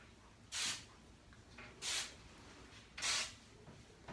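Hairspray hisses onto hair in three short, separate bursts about a second apart, close and soft in an otherwise quiet room.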